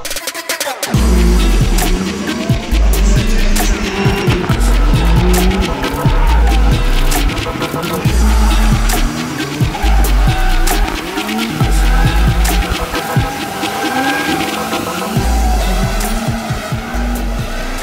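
Cars racing through a gymkhana course at a 2019 event, engines revving hard and rising in pitch in repeated bursts, with tires squealing and skidding throughout, loud and close for the full stretch.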